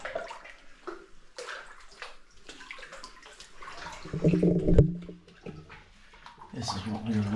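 Water sloshing and splashing as someone wades waist-deep through a 1905 tunnel, with irregular surges that build to a louder swirl midway, echoing in the enclosed space, with breathing and faint voices mixed in.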